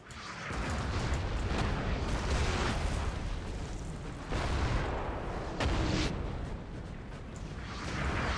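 Battle gunfire from Napoleon: Total War: a thick, rumbling roar of musket volleys and booming cannon blasts rolls on steadily, with occasional sharper cracks standing out.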